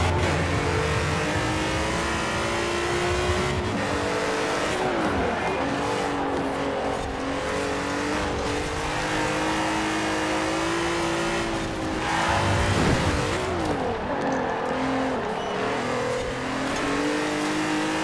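Race car engine in a saloon championship racing video game, revving loudly and continuously with rising and falling pitch through gear changes, joined by other cars nearby, with faint talk underneath.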